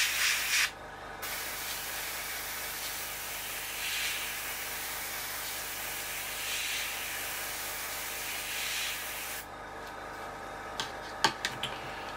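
Varnish sprayed onto a Seafire XV scale model gives a continuous faint airbrush hiss lasting several seconds, with soft swelling passes, ending in a few small clicks.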